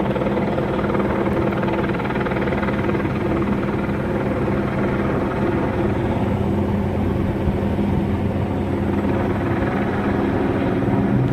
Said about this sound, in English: There's the helicopter banking again.